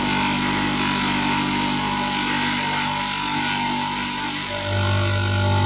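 A bench grinder fitted with a felt polishing wheel and paste runs continuously with a loud, steady mechanical hum and whine, its tone dropping and shifting near the end.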